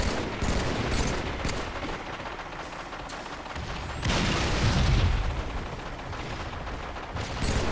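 Rapid bursts of gunfire and heavy grenade blasts from a Halo match on the Arsenal map in a capture-the-flag squad battle, dense and continuous, with a louder boom midway and no talk over it.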